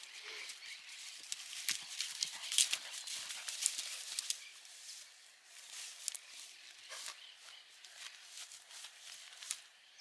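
A bay horse walks at a steady pace, its hooves clip-clopping in a soft, regular rhythm heard at moderate distance, fairly faint, with no talking over it.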